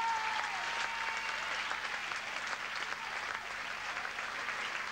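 Steady, full audience applause at a 1987 Dutch artists' gala, a continuous wash of clapping from a large crowd, unbroken throughout.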